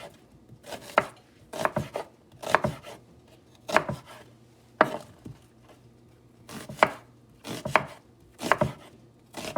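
A knife chops ginger on a cutting board, landing about ten firm, evenly spaced strokes, each a sharp close thud against the wood with quiet gaps between.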